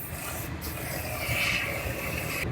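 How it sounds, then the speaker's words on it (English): 3M cavity wax sprayed from a 360-degree wand into the bare-metal insides of car body panels, giving a steady, close, continuous hiss that holds at an even level throughout. "this sprays in a 360-degree pattern, and I hose it inside of all the areas where there's bare metal inside"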